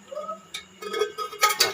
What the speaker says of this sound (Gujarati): વાસણ ઘસવાનું ચાલુ છે.